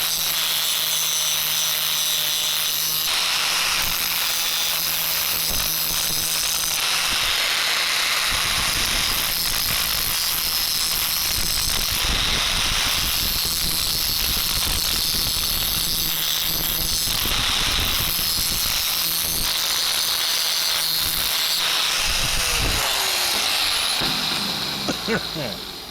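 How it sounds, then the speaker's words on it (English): Angle grinder grinding the burrs off a steel steering shaft for a 4WD Daytona, a loud, steady, high whine with a harsh grating edge that runs almost without a break, close to the listener, with someone talking over it. "Grind the burrs off it."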